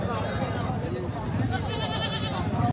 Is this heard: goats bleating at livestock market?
yes